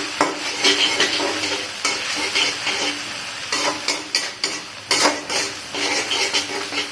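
Chicken chilli sauce stirred in a pan, with a spoon scraping and clattering against the metal in an uneven rhythm over a constant sizzle, close and fairly loud.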